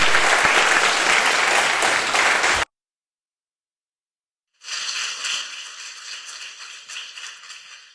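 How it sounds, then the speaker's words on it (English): A crowd claps for college women swimmers at a public event: loud, dense applause that cuts off abruptly, then returns more softly after a short silence and fades slowly. "Yeah, let's give these ladies a round of applause."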